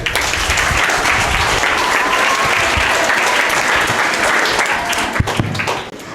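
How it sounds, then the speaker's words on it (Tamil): Loud, dense applause from a large audience at a Tamil debate event, sustained and even for about six seconds before tapering slightly at the end. "நல்ல கைத்தட்டு கொடுங்க"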